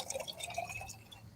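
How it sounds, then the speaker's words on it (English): Cranberry juice poured into a glass over ice, a faint, close trickle with small splashes and drips that thin out quickly, with no talk. "Then we have 6 ounces of cranberry juice. Okay. We're going to pour that on top."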